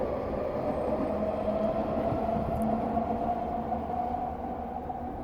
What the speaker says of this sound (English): I'll just say that over the train and the horns in the background